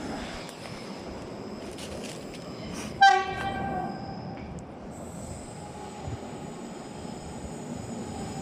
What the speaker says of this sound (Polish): Akurat szynobus jedzie.